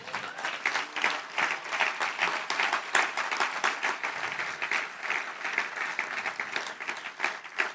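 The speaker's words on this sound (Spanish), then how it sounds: "Denle un aplauso, Señor." Church congregation applauding during a sermon, dense continuous clapping from many hands, steady and fairly loud throughout with no talk over it.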